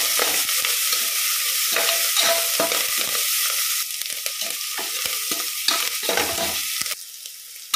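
Cinnamon pieces and curry leaves frying in a pan for catering-style mutton gravy, a loud continuous sizzle broken by repeated scraping stirs, steady and close throughout.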